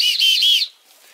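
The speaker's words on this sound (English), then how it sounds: "It's a lot less effort to whistle than it is to scream because nobody can hear you scream in the wilderness, but they can hear a whistle." A survival whistle gives a shrill, steady blast in the open wilderness near Jackson, Wyoming, with two short dips in the tone. It lasts about two thirds of a second, then cuts off to near quiet.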